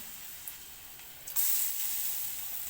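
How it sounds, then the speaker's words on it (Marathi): Battered potato slices for crisp potato bhaji drop into hot oil, with a sudden bright sizzle swelling around the midpoint and then holding as a steady frying hiss after a quieter start. "चिप्स आता त्यातलं उचलून घेते आणि तेलात टाकते"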